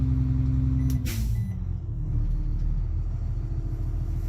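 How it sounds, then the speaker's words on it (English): A Bluebird school bus parking brake engages with a sharp hiss of released air over the steady low rumble of the idling engine, close and alone. "To do so, the parking brake engaged."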